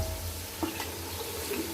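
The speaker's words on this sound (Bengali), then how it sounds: "এখন আম্মু ম্যারিনেট করা চিকেনগুলো দিয়ে দিচ্ছে।" Marinated chicken hits hot ghee with onions in a home kitchen pan for biryani, giving a steady, close sizzle with a few brief clinks and stirring scrapes.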